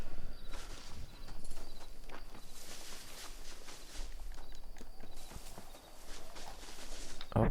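Horse hoofbeats clip-clop in a steady, close rhythm as a rider travels along in the Western video game Red Dead Redemption, with faint insect chirps in the background.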